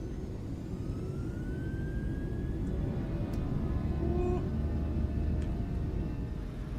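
Steady low jet engine roar of a PMDG 737NG airliner accelerating down the runway in Microsoft Flight Simulator 2024, a continuous loud rumble with faint whining tones rising over it, no talking.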